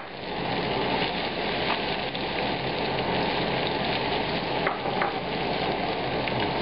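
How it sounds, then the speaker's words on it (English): Shallots frying for a couple of minutes in an almost dry pan for Persian rose chicken, giving a steady, dense sizzle and crackle throughout with a few sharper pops, close and even in level, no talking. "we cook it like this for just a couple of minutes with just the shallots in the almost dry pan"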